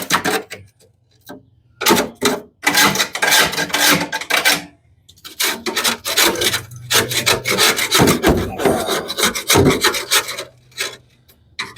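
Harsh, rhythmic scraping as a tool knocks thick, chunky rust off an EZGO Marathon golf cart battery tray, loud close strokes in rapid bursts with short pauses, no talking.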